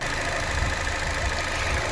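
An Opel Astra Twintop engine idles while warming up, a steady low rumble with a faint ticking texture that holds even throughout, close by and alone.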